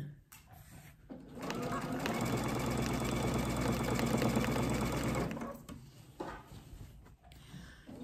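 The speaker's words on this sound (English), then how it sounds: "I'm just guiding it so that it stitches on the line." A sewing machine stitches steadily along a marked line on fabric for about four seconds, a close, even mechanical whir between quieter handling sounds at the start and end.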